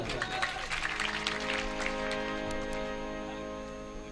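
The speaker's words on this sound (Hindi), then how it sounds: "भैया इन्हें ताली बजा दो एक बार" An audience at a Rai folk music program in Mumbai breaks into clapping, busy at first and then thinning, while someone speaks over it and tonal music lingers underneath.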